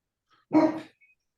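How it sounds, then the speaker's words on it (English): A single dog bark at night rings out once, short and fairly close, surrounded by near silence. "And a dog barks in the night."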